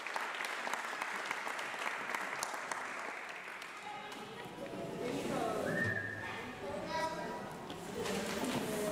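Applause from a music academy audience after instructors are introduced, broad steady clapping with a few whistles, continuing through the clip with some voices mixed in.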